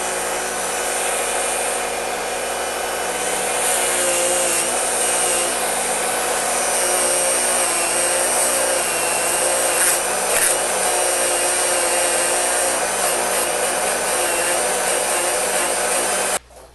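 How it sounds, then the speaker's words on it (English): A Dremel rotary tool grinds on a weld on a grandfather clock door lock, a loud, continuous high-pitched whine that holds steady throughout and then stops abruptly at the end. "Dremel tool."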